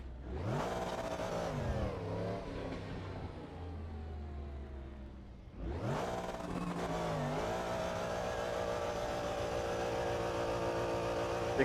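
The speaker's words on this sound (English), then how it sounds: "Big burnouts." A car doing big burnouts in the RaceRoom racing game, its engine revving hard and sustained with tire squeal layered over a steady roar, dipping briefly before surging back up loud and continuous.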